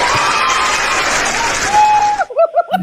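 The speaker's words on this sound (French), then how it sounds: "Applaudissez." Loud applause and cheering from a studio audience on a talk show, with shouts and whoops over the clapping, then cutting off abruptly into a voice speaking alone.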